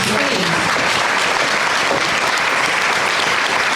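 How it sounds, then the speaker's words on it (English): Audience applause at a justice-system panel session on courts, a steady, loud round of clapping from a large crowd filling the room, with no talk over it. "let's give them a round of applause"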